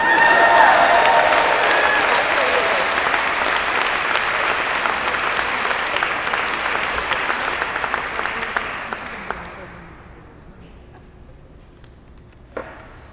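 Sustained applause from an audience at a fall fundraising event in Buffalo, NY, loud and dense at first, then thinning and fading to near silence after about nine seconds, with a last stray clap near the end.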